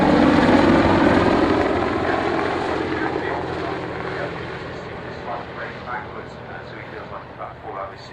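A Longbow Apache helicopter at a flying display, its broad rotor and engine roar loud and close at first, then fading steadily into the distance, with voices talking faintly underneath.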